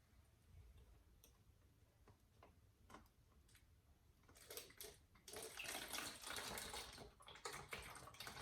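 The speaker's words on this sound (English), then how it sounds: "Then you grab this white vinegar and then you pour it halfway." White vinegar poured through a funnel into a plastic water bottle, a soft trickle that builds into a steady gushing pour in the second half, close and alone.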